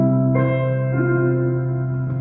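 A Nord keyboard plays sustained, chord-like tones with a medium hall reverb; notes enter in layers and ring out smoothly across about two seconds with a steady, fairly loud level and no talking.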